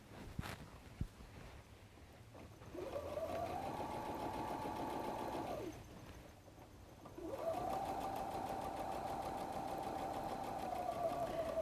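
A sewing machine stitching a pocket onto a messenger bag runs in two steady bursts of several seconds each, separated by a short pause, with a close, even motor whine and rapid needle clatter.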